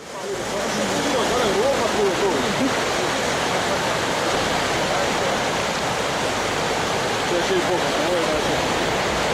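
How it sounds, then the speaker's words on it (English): Floodwater gushing from an overflowing stormwater drainage system onto flooded streets, a loud, steady roar of rushing water that holds without a break. "The stormwater drainage system has overflowed, turning wells into fountains and rendering roads impassable."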